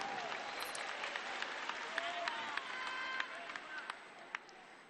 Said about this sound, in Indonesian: Boleh tepuk tangan buat semua yang hadir di sini.